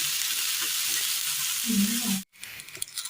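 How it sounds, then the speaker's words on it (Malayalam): Chopped onions sizzle softly in a pan, a steady close hiss with faint stirring, briefly cut off by a short silent gap before resuming quietly. "ഉള്ളി ഒന്ന് ചെറുതായി ഒന്ന് വഴന്ന് വന്നിട്ടുണ്ട്"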